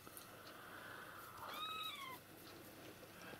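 A single short cat meow rises and falls in the middle, faint against a quiet background hum.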